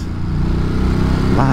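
A motorcycle engine drones steadily while riding on a cold 32-degree day at highway speed, a close, continuous low rumble with a slight rise in pitch near the end.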